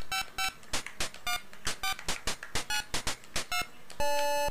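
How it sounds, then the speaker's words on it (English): Electronic tones from the NES game Bill and Ted's Adventure as a phone number is dialed, a quick string of short beeps ending in a steadier buzzing tone like a busy signal. "Oh, it's a busy signal."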